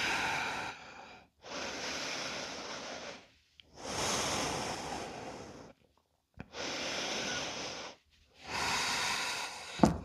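Slow, deep breaths during a yoga session with dumbbells, close and clear: five long airy exhalations and inhalations separated by brief pauses, with no talking.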